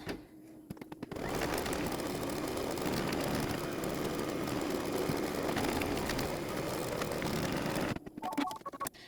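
An embroidery machine stitches a tack-down line to hold background fabric for an in-the-hoop pillow wrap, starting after about a second and running as a steady rapid buzz before stopping near the end.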